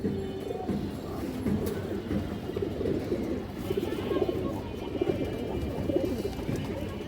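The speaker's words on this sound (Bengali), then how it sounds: "একটা সিলভার নর কবুতর আছে" A silver male pigeon cooing in a loft, soft repeated low coos close by over a steady murmur of background noise, with faint voices.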